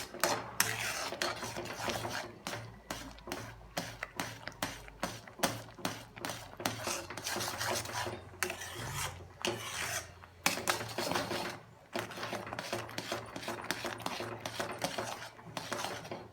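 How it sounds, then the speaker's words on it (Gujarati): A spoon scrapes and rasps steadily against a pan as wheat flour shiro cooks in ghee, making a continuous gritty stirring with regular strokes, close and moderately loud, with no talk. "એમાંથી ઘી છૂટું પડે ત્યાં સુધી એને ચલાવવાનું"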